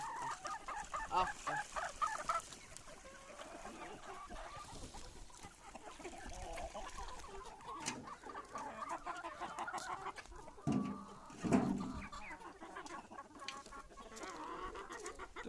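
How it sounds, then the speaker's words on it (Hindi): Pahadi and Kadaknath hens on a small winter poultry farm cluck and chatter steadily throughout, with a rooster-like call and a louder burst of fowl noise near the end; no talking. "मेरे पास सारी मुर्गी पहाड़ी हैं और कड़कनाथ, 2 वैरायटी पे काम कर रहा हूँ मैं।"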